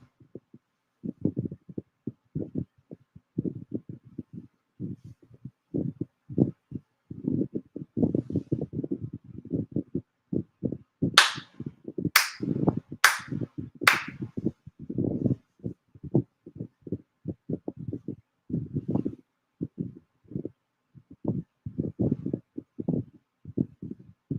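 Four sharp ritual hand claps ring out in quick succession at a Shinto monthly ceremony for Tenchi Kane no Kami, standing clear above a steady patter of rhythmic knocking and rustling that runs throughout.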